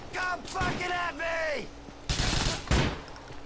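Gunfire from GTA 4: The Lost and Damned, including a sawed-off shotgun fight: several sharp, loud bursts land between stretches of someone talking over the game.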